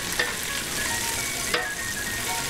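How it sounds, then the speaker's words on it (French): Pancetta cooks in a pan for spaghetti carbonara, giving a steady close sizzle and crackle with a few sharp pops, and no talking. "Là, vous voyez, la pancetta est en train de cuire."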